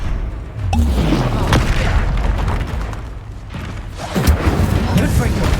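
Incendio fire spell cast over and over in Hogwarts Legacy, heard as dense booming bursts and crackling blasts that carry on steadily and loudly, with stronger hits near the start and again toward the end, over game combat noise and voices.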